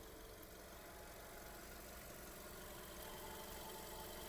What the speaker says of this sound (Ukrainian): Робота двигуна.